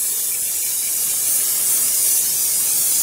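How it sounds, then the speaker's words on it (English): Hairspray hisses from an aerosol can onto a mixed-media artwork to set it, a continuous close, bright spray that runs steadily without pause. "just spray that with some hairspray"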